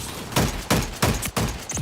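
Gunfire in the arena shooter Splitgate 2, four heavy, punchy shots spaced roughly a third of a second apart, loud and close with a short ringing tail after each one.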